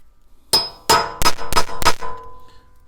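Five sharp metallic clangs ring out at a steady pace as a hammer strikes an old screwdriver used as a chisel on a wheel hub of a Mazda CX9 or Ford Edge, each hit loud and close with a brief ringing tail.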